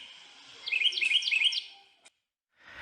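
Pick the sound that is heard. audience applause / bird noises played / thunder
bird noises played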